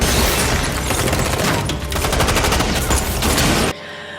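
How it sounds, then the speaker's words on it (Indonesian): Rapid, loud bursts of gunfire crackle continuously in a dense volley for several seconds during a shootout in an action film, then cut off abruptly into a quieter background. "Dan mereka pun saling tembak-tembakan."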